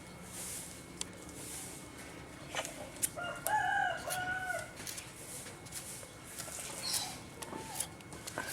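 A rooster crows at a distance among other chickens' clucks, a single drawn-out call rising over faint background bird and yard noise, with no talking.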